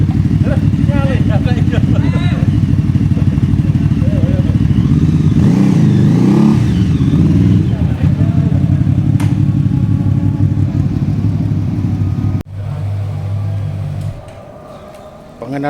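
A QJMotor 250 cc motorcycle engine runs loud and close, revving with a rough rumble and some clatter while people talk over it; the engine note drops to a lower idle near the end.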